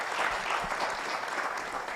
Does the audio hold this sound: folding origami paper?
no